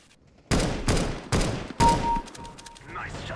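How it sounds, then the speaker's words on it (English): Auto sniper rifle fire in Counter-Strike: Global Offensive, four loud, sharp shots spaced about half a second apart, each with a short ringing tail, followed by quieter game sounds. "See how long I can hold it with an auto sniper."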